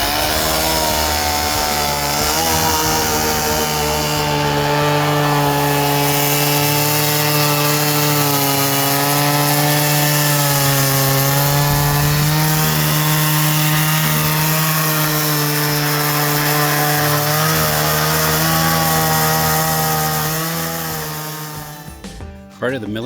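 A chainsaw mill with an edging mill attached rips through wood at an off-grid cabin, a loud, steady, close-up engine drone that holds a constant pitch under load for about twenty seconds before the cut ends and the saw drops away.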